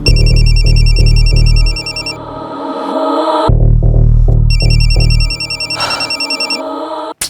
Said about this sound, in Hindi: कोई कॉल आया था तनवीर को?